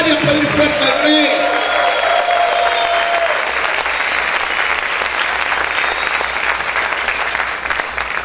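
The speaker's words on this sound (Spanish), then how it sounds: "Vamos a gritar y a aplaudir fuerte al Rey." Loud sustained clapping and shouting from a church congregation in worship, a thick continuous wash of hands and cheering voices that holds steady and tapers slightly at the close.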